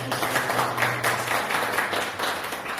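Audience applause fills a small church mission center gathering, a steady burst of hand clapping from a group, fairly close and loud for about three seconds.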